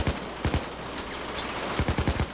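Bursts of rapid gunfire in the video game Payday 2, a short volley early on, then a quick string of shots near the end over a noisy background.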